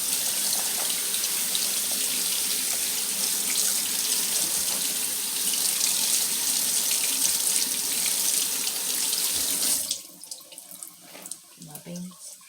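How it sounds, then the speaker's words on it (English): Beans being rinsed under a running kitchen faucet, a steady broad rush of water for about ten seconds that then stops, leaving quieter handling sounds, with no talk over the stream. "And I rinse my beans off."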